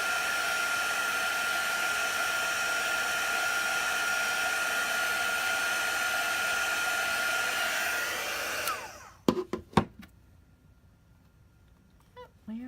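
A hair dryer blows steadily and loudly to dry chalk paste on a canvas, then switches off, followed by a few sharp handling clicks and knocks.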